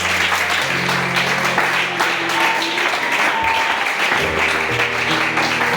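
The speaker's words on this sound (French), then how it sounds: "Sous vos acclamations, s'il vous plaît." A church congregation applauds in a steady burst of clapping, with sustained music tones and some voices mixed underneath throughout.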